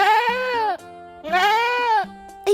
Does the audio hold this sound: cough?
no